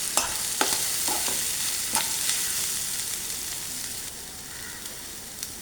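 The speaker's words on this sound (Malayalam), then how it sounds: "ഇതിലേക്ക് ഇനി കണവ ആഡ് ചെയ്യാം. ഇളക്കി വിടാവുന്നതാണ്." Squid sizzles and fries in a pan while being stirred, with steady hissing broken by several sharp spatula scrapes and knocks, close and clear, no voices.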